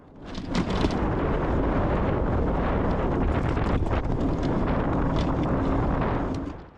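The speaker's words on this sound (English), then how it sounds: "So really strong wind." Strong wind buffets the microphone during a cargo bike race at an outdoor bike festival in Berlin, a loud continuous rumbling roar that fills the whole stretch without any voices.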